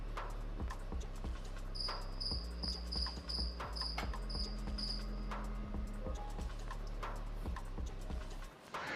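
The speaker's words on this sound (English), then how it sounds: "El cricket, el cricket." A cricket chirps in quick, evenly spaced bursts of high pulses, steady and fairly close, over a low background hum and scattered clicks with no voices.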